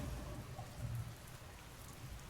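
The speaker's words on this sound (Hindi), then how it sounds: "और हल्की हल्की बारिश।" Light rain falls steadily on a quiet night, a soft continuous patter with low rumbling underneath, fairly faint and even throughout with no voices.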